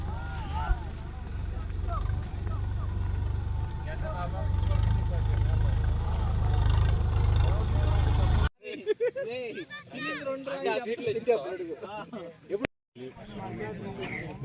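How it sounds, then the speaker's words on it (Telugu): A tractor engine at a Ganesh Chaturthi gathering gives a low, continuous rumble for the first half, then the scene cuts to people talking with only faint background noise. "అదిగోండి ట్రాక్టర్"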